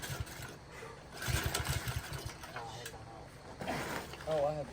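A Manco 126cc Dominator go-kart's small engine sputters and runs in an uneven, pulsing chug that rises and falls, while people talk over it nearby.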